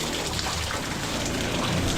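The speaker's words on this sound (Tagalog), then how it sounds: "Lakas ng ulan." Heavy rain in Pampanga pours down in a dense, constant roar of drops drumming on surfaces, loud and unbroken with no speech.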